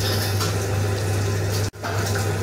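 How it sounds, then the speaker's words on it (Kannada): Water pours into banana idli batter in a steady close stream, briefly cut off for a moment before resuming. "ಸ್ವಲ್ಪ ನೀರು ಹಾಕ್ಕೊಳ್ತಾ ಇದ್ದೇನೆ, 1¼ ಗ್ಲಾಸ್ ನೀರಿದ್ದರೆ ಸಾಕು."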